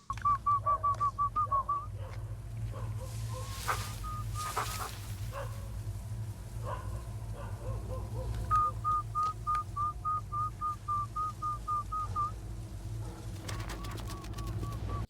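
Repeated short whistle bursts call out to pets in an evacuated Chernobyl-area village in the TV series, coming in rapid trills at the start, middle and end over a low steady rumble, with faint scattered background sounds.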